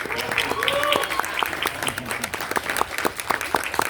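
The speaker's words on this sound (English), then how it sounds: "Round of applause for yourselves in that regard." A convention crowd applauds at a pony fan event Q&A, dense clapping that fills the room near and steady, with voices mixed in over it.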